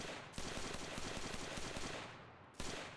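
A continuous burst of M1 carbine gunfire in the video game Enlisted rattles loudly and fast for about two seconds, then stops briefly and starts again.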